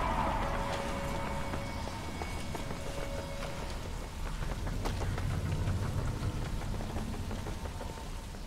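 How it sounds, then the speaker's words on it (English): Steady rain falls in NZA2 Crucible of Evil, a continuous patter of drops mixed with rapid thudding footsteps and scattered clicks, holding an even loudness throughout. "I don't remember rain being in the first game either."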